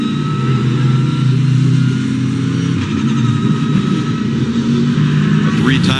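Trackhouse Racing's No. 91 race car, a street-course car on a victory lap, runs steadily with loud engine drone mixed into continuous crowd and ambient noise, with no clear revving peaks.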